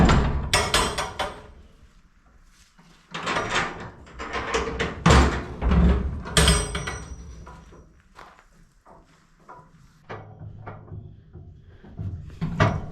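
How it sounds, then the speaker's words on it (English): The door of a metal material storage container in a metal shop being opened: a series of heavy metallic clanks, bangs and scrapes in uneven bursts, close and loud, with no talking. "All I do is open up the door on this side."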